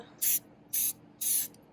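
An airbrush sprays paint onto a doll's flower crown headdress for a Día de los Muertos Barbie in three short, even hissing bursts with brief pauses between them.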